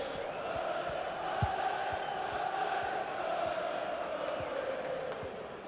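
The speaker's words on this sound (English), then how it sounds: "Burnley have scored, the away fans are cheering." Away fans cheer a goal in the football video game FC 24, a steady crowd roar with shouts, continuous and moderately loud, with talk over it.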